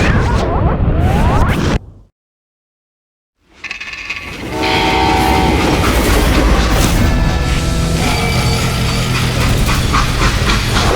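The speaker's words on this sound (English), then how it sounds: "how'd they stop this train in the first place?" Steam train in the Western game Call of Juarez: loud rumbling rail noise with clanking wagons and a horn-like tonal blast, broken by a sudden two-second silence before the heavy running train returns and continues steadily.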